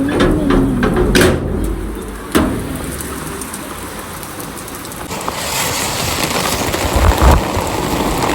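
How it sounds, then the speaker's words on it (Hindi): Steady heavy rain hisses down, with a few knocks and clatters rising above the constant downpour. "सच में इतनी अच्छी बारिश हो रही थी"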